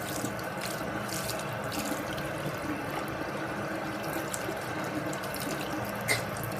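Water runs steadily from a tap into a sink while a makeup brush is scrubbed and rolled in the hand with soap, a continuous close splashing rush with faint squelching and no talk.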